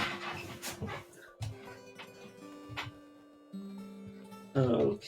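A dog in the video game Caves of Qud whimpers and yips in short bursts separated by quiet gaps, with a louder burst at the end.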